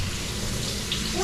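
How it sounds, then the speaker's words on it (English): Running tap water pours steadily as hands are washed beneath it, a close, continuous splashing hiss with no speech over it. "Washing my hands."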